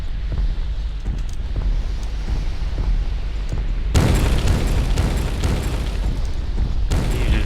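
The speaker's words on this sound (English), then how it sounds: "You just barely missed those grenades." Grenade blasts in the fantasy strategy game Myth: The Wolf Age, a loud, dense burst erupting around the four-second mark over a steady rumbling battle backdrop, with a second surge near the end.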